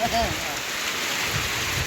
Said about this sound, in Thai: ฝนตกแล้วนี่